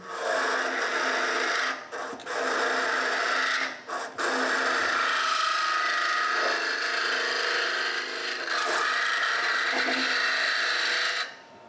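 A woodturning tool cuts into the end grain of a spinning wooden box on a lathe, producing a continuous rasping, scraping drone that stays loud and steady with a few brief pauses.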